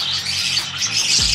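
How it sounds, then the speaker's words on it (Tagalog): Raffle-prize birds squawk loudly and continuously close by, a dense overlapping chorus of harsh calls with no talking. "At nakikita nyo naman dito ang inyong mga mapapanalunan na ibon."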